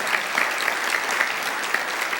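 An audience at a panel discussion applauds, a dense, sustained patter of many hands clapping at steady loudness throughout.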